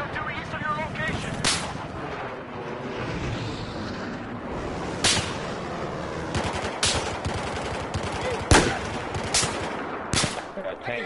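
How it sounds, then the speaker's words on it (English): Machine gun fire and battle noise in Battlefield 4, with sharp bursts of automatic gunfire standing out at irregular intervals over a steady rumble of combat. "Spot a hostile machine gun up due east of your location!"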